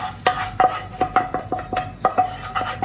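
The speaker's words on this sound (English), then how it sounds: "Now we add tomatoes in this dal." Dal makhani in a pot being stirred after tomatoes go in, a spoon knocking and scraping against the pot in a quick, irregular rhythm of close, clear clinks and scrapes, with no talk.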